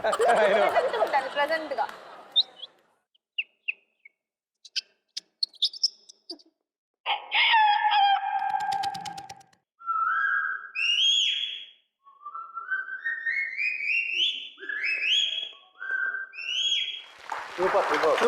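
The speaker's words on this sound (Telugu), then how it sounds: "Early morning birds." Early-morning birdsong heard up close and clear: a run of rising chirps and whistled notes, with short trills in between, coming between bursts of talk and audience noise on a game-show set.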